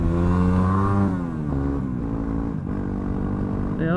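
A Yamaha WR250R motorcycle revving hard in second gear during a wheelie, the engine close and loud, climbing in pitch, dipping briefly, then surging again at high revs.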